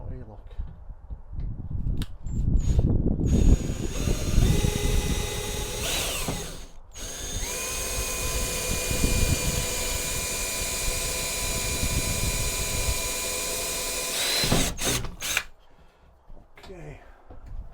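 A power drill bores out holes in the window frame of a Beneteau Antares 650 boat to fit larger bolts, whining loudly in several bursts of varying length with short pauses and handling clatter between them.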